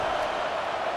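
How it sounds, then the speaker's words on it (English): Home stadium crowd in EA Sports College Football roars steadily and loudly throughout a Michigan vs. Michigan State rivalry game, a dense, unbroken wall of cheering with no distinct voices standing out. "how nice is it to have the home crowd going absolutely bananas?"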